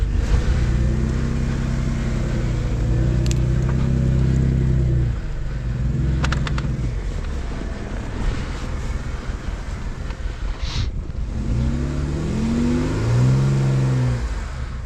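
An off-road side-by-side's engine revs up during a recovery of a stuck SXS, a loud low rumble that drops off and then climbs again in rising surges, with wind buffeting the microphone.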